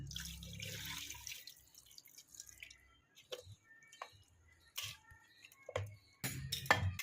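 Water poured from a karai into a pressure cooker while cooking a mutton dish, heard as close drips and splashes in short irregular bursts with quiet gaps between them, and no voices.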